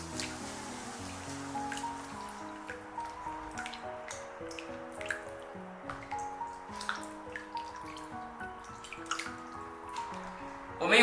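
Chicken wings being rinsed in clean water, with soft continuous dripping, sloshing and small splashes close by, fairly quiet throughout.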